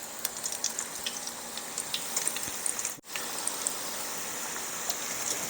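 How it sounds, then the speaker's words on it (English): Steady crackling sizzle of Brussels sprouts frying in hot oil in a skillet, with bright popping spatters throughout and a brief dip near the middle. "put them into your hot oil"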